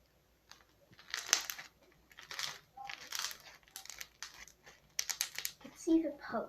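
Crunchy slime squeezed and crunched by hand, giving repeated close crinkling, crackling bursts in an irregular rhythm with brief pauses between squeezes, fairly faint.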